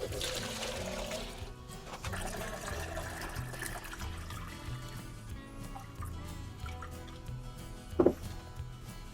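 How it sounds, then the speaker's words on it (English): Tap water running steadily into a container for fermenting some of the hottest peppers, a continuous splashing fill at close range with a brief louder slosh near the end. "fill it up with some water."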